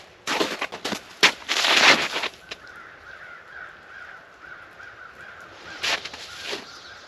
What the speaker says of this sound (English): I don't know if I scared those birds or not.